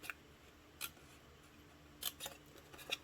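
Scissors cutting up along score lines in paper for a perfume bottle gift box, a handful of sharp, separate snips spaced apart, close and fairly quiet, with no talking.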